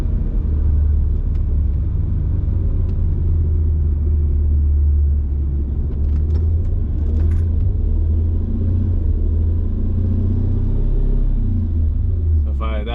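Mercedes C55 AMG with a lingering engine fault revving to around 2,000 RPM, a loud steady low rumble that holds and slowly settles, with a voice talking over it.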